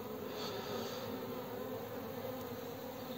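Honey bees flying around a hive in February under a cloudy sky, a steady dense buzzing hum that fills the whole stretch without pause, close and even in loudness.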